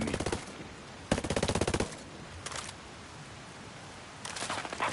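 Bursts of automatic gunfire in Ghost Recon Breakpoint PvP, several rapid rattling volleys, loud and close, separated by quieter gaps of background noise.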